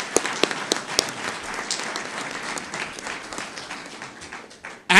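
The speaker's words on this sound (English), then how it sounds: "How about a round of applause?" A crowd at a university athletics announcement gives a round of applause. A few sharp individual claps come first, then sustained clapping settles in, and a loud burst comes at the very end.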